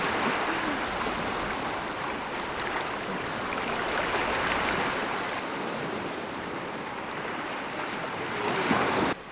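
Ocean surf washes onto a beach beside a hot spring, a broad continuous hiss and rumble of breaking water with some wind buffeting, steady throughout and swelling slightly near the end, no talking.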